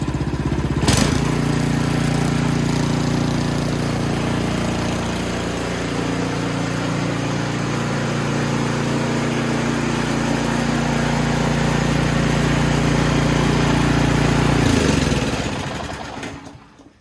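Ariens Deluxe 28 snowblower engine running steadily at a loud, even idle after an idle adjustment, a continuous low drone that holds for about fourteen seconds before cutting off and fading out.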